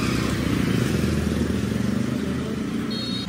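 A slightly damaged motorbike rumbles steadily while riding to a salon shop, a close, continuous low engine drone that eases a little toward the end, with no talk.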